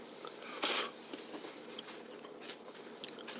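Someone tastes Meijer mild Michigan cherry salsa. One loud crunchy bite is followed by quieter, faint chewing and small crunches, close to the mic, with no speech.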